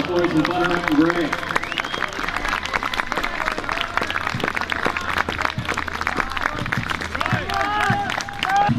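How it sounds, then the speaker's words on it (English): An outdoor crowd claps and cheers for Civil War reenactment troops in butternut and gray as they march past. The applause is sustained and scattered, with an announcer's voice over it. "Round of applause for our boys in Butternut and Gray."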